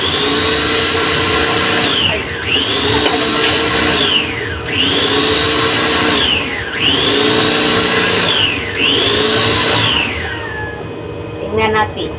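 Electric mixer beating malunggay puto cheese batter in a bowl, loud whine rising and falling in five repeated pulses of about two seconds each, close and continuous, with a brief clatter as it stops.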